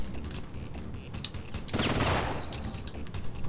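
Gunfire from an enemy's lethal weapon in Syphon Filter, a burst of fairly faint, muffled shots over a busy game background.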